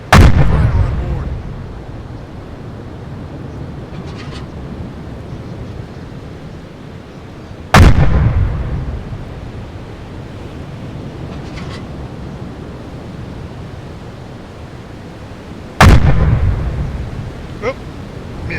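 Three heavy, booming shots from a U-boat's 37mm four-barrel deck gun in a naval video game, evenly spaced about eight seconds apart, each ringing out over rough-sea ambience with faint talk between them.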